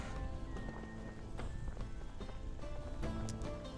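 Steady clip-clop of horse hooves while riding in the medieval video game Medieval Dynasty, a quick continuous rhythm at moderate level under faint game ambience.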